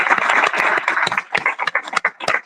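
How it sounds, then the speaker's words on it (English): Clapping from an audience at a Bitcoin conference, a brisk scattered burst of many hands close by, uneven and crackling, with faint voices beneath. "I wanted to give a massive round of applause to everyone that's here"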